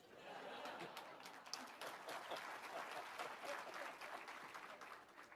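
A church conference audience applauds, a faint, dense, continuous patter of clapping with a few chuckles mixed in, heard from some distance.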